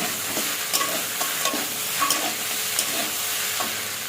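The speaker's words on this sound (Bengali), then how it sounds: "এবার দিয়ে ভালো করে এটা কষাবো।" Steady sizzling of fried fish and fish head cooking in a pan for a fish-head curry, with scattered scraping stirs, close and fairly loud, no voices.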